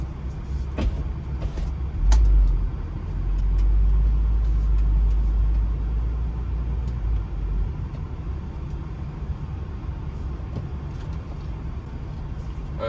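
A car drives along the road with a steady low engine and tyre rumble, a few light interior clicks and knocks over the top, and no talking.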